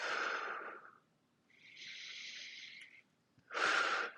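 Slow, deep breaths during a morning stretch routine, three long airy exhales and inhales, close and fairly quiet, with nothing else around them.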